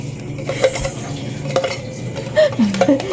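Utensil scraping and clinking against a bowl while egg and cheese are stirred into a buko salad, several irregular close knocks and scrapes over a low background, no talk.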